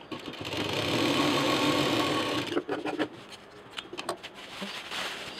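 A sewing machine stitching a fabric tiffin case runs in a steady, loud whirring burst for a couple of seconds, then drops to softer, uneven rustling and handling noises as the work is adjusted.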